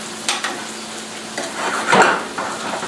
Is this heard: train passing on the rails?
no